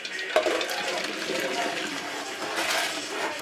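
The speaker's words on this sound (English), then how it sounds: "My eggs have been in the water for 12 minutes, and now drain the eggs" Boiled eggs drained from a pot of water, a steady pouring rush of water that begins with a small knock near the start and keeps running at even strength throughout.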